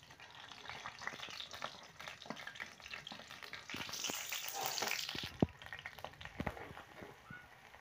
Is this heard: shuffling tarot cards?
no